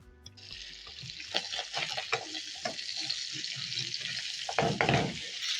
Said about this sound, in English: we are searing the octopus